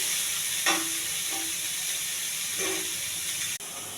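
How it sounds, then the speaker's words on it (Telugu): Chopped onions and green chillies frying gently in a pan, a soft continuous sizzle with a few short stirring scrapes, no voices. "ఉల్లిపాయ, పచ్చిమిర్చి, కొంచెం దోరగా వేయించాలండి, మాడకుండా"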